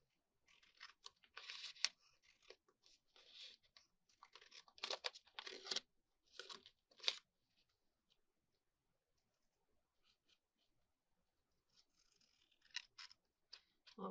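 Scissors cutting a piece off paper in a handmade glue book, a quiet, close series of crisp snips and crinkling bursts in irregular clusters, with a pause and then more rustling near the end.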